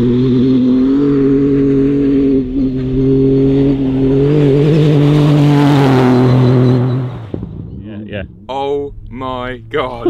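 An Audi RS Q e-tron rally car at Dakar 2023 drives past close by, a loud rising mechanical whine and roar that swells and then cuts away, followed by excited voices.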